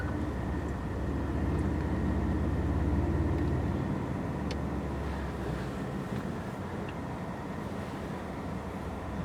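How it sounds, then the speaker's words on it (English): A 2012 Mercedes-Benz S63 AMG with a tuned exhaust drives on the freeway: a deep engine drone swells, holds, and then eases off, mixed with steady wind and road roar. "when you get on it, you can hear the tuned exhaust"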